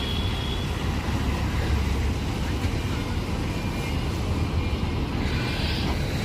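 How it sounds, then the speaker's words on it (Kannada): A loaded truck arrives and reverses into place: a loud, continuous low engine rumble with broadband noise, close by and steady, over outdoor background. "ನಮ್ಮ ಗಾಡಿ ಬರ್ತಾಯಿತ್ತು ನೋಡಿ. ಲೋಡಾಗಿ ಬಂತು."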